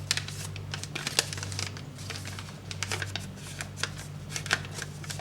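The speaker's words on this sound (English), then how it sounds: "The easiest way to do this is to fold this flap all the way up." Paper being creased and folded into the tail of an origami angelfish, a close run of crisp rustles and soft snaps lasting throughout, over a low steady hum, with no talk.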